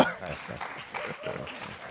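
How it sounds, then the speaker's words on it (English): Audience applause at a radio marketing masterclass event, a modest, fairly faint patter of clapping that carries on steadily for a couple of seconds under a murmur of room noise. "Please keep those applause going on."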